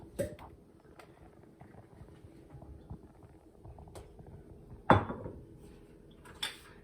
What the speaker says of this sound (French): moi, j'ai une belle marmite bien lourde. On va mettre un petit peu d'huile